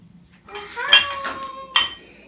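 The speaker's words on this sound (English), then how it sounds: "is unloading the dishwasher" Dishes and cutlery clink and ring as a dishwasher is unloaded at home, with several bright close clatters and a sustained ringing tone from a struck plate or pot.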